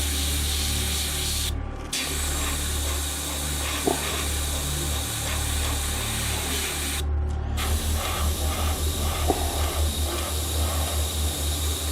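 Spray paint hissing onto a sanded model floor tile, two short bursts followed by a series of quick rhythmic spurts near the end, close and fairly loud over a low background hum.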